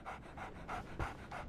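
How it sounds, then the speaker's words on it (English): A dog in the game Sherlock Holmes The Awakened pants in quick, rhythmic breaths, five close puffs in a steady pattern with no one talking. "So, Barnes has a dog now."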